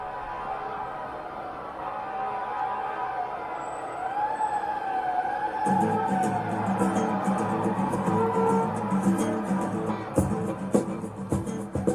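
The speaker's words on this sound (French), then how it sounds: "Quand les sirènes se déclenchent, j'ai mal aux oreilles." A wailing emergency siren rises and falls amid steady street traffic noise, with a heavy vehicle rumbling closer in the second half.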